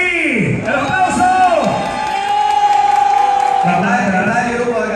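A bar audience at a Halloween costume contest claps, cheers and whoops for a contestant, lively mixed applause with voices shouting over it and talk throughout.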